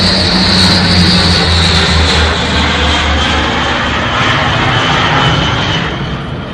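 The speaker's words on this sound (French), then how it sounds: "Madame Chauvin, c'est impressionnant cet avion qui passe juste au-dessus de votre maison." A propeller airplane passes low over a house, a loud, steady engine roar that fills the whole clip and eases off slightly toward the end, with nothing else heard.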